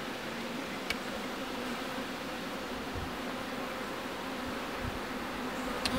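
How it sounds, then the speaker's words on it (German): Honeybees from a production colony buzz in a dense, steady swarm while the hive is opened for a swarm-control inspection, a continuous close hum with a couple of faint clicks and no talking. "Trotzdem aufpassen, dass man keine Bienen quetscht."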